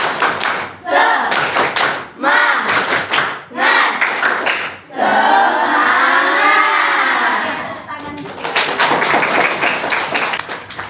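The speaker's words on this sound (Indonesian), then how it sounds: "Tepuk semangat." A school class claps out a rhythmic 'tepuk semangat' chant in loud bursts split by short pauses, with children's voices chanting along. A longer sustained stretch of voices and clapping runs through the middle before the clapping resumes.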